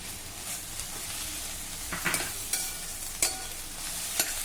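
Onion, garlic, capsicum and tomato sauté in a pan with a soft, steady sizzle, broken by several sharp scrapes and clacks of a spatula stirring, close and without talk.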